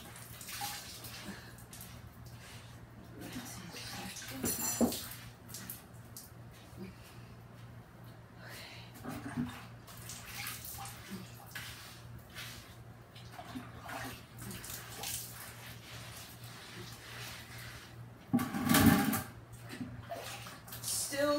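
Rinse water pours and splashes into a container during fireplace cleaning with bleach, dish soap and salt, with uneven gushes and drips, louder bursts near the middle and end, and speech now and then.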